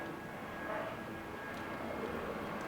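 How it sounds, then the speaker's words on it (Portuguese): A fixed-wing airplane passes overhead as a steady, distant broadband roar with a faint engine hum, holding at an even level with no talk. "Olha o avião."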